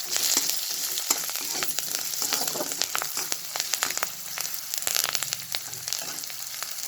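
Curry leaves and chilies crackle and spit in hot oil, a dense, continuous sizzle with sharp popping bursts, close and fairly quiet, with no voices.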